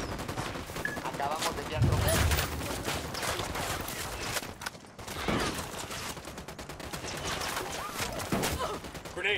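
Gunfire erupts in a Ghost Recon Wildlands firefight, with dense bursts of automatic fire and sharp sniper cracks rattling steadily throughout, while voices speak briefly over the shooting.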